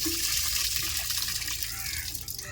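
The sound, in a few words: washing dried fish with water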